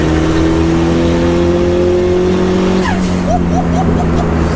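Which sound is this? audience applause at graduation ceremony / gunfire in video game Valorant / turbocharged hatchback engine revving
turbocharged hatchback engine revving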